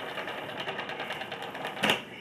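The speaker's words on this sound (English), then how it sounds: "Can you spin it? Can you spin the lettuce?" Salad spinner whirring as it spins garden lettuce, a steady rattling buzz with a brief louder clatter near the end, no talk over it.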